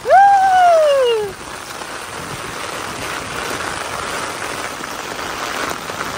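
Heavy rain pours down outdoors beside a car and puddles, a dense, steady hiss that fills the scene after a brief whistling tone at the start.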